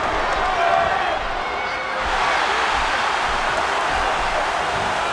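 A steady roar of a large wrestling arena crowd applauding in WWE'13 during an Undertaker versus Kane match, a continuous wash of clapping and cheering under commentary.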